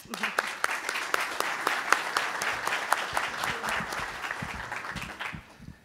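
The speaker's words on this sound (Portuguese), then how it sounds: "Uma salva de palmas" Sustained audience applause at a seminar talk, dense clapping from a crowd that carries steadily for several seconds before fading out.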